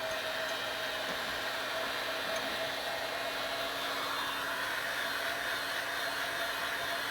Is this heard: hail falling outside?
no